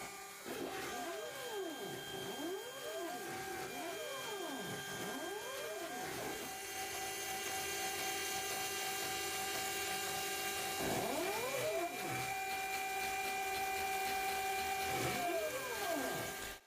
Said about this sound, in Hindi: सीएनसी कटिंग का समय आया।